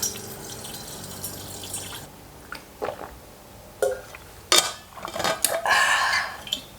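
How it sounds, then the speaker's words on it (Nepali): Water runs from a child-lock water dispenser in a small Japanese apartment, starting with a few clicks and knocks and then a close, steady splashing stream that lasts a couple of seconds. "यो पुरै चट्ट यहाँ उठाएर यहाँ थिचेर अनि मात्रै पानी झर्ने रहेछ"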